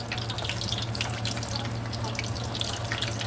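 Kangkong chips frying in oil while being flipped, a soft continuous bubbling sizzle with light watery crackles, fairly quiet and steady over a low hum.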